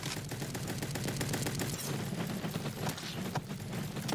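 Rapid gunfire in the Bad Business video game, dense bursts of quick shots in steady automatic rhythm, loud and continuous with no talk.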